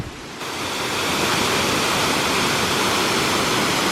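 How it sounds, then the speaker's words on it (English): A waterfall on a Mendip Hills walk roars as a steady broadband rush, swelling in after a quieter first moment and then holding loud and continuous with no voices. "Found the first waterfall."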